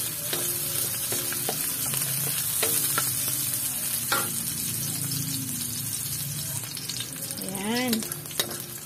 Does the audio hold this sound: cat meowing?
no